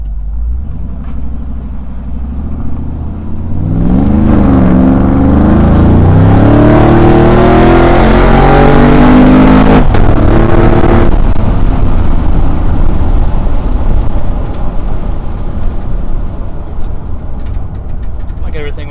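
A car fitted with a Gen V fuel system and an OEM pump accelerates hard on the road, its engine building to a loud, sustained roar that holds for about fifteen seconds, with tires spinning.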